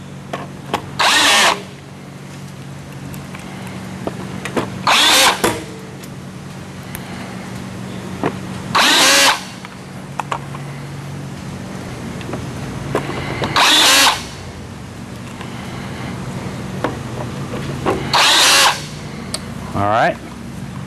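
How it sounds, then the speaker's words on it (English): Power drill driving half-inch self-tapping screws into pre-drilled holes in a shop, five separate short high-pitched bursts spaced several seconds apart over a low steady hum. "And just in the holes you already drilled, screw in your screws"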